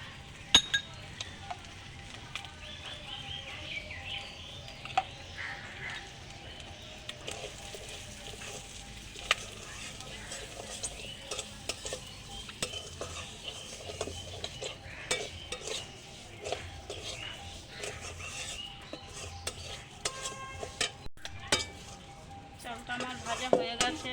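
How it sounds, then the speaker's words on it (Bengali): Rice fries in ghee for the fish-head muri ghonto, with a soft background sizzle under frequent clinks and scrapes of a spoon against the pan, all close and fairly quiet. "এবার আমি চালটা ভেজে নেব এর মধ্যে আমি একটু ঘি দিয়ে দেবো"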